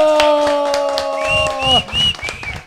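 A cumbia concert crowd claps and cheers in a brief burst of applause over a held band chord that cuts off midway, with a few loud whistles rising above the clapping near the end.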